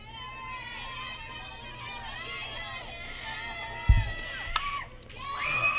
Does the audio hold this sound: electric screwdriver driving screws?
no